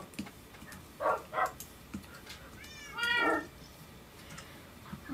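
A Minecraft cat meowing: two short meows, then a longer, drawn-out wavering meow a moment later, clear and loud over faint game ambience, with no talking.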